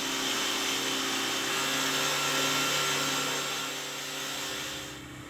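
A massive jumbo drill rig bores a grid of holes into rock at a heading of a Nevada gold mine 2,200 feet underground, giving off a loud, steady mechanical drone with a constant hum and no pauses.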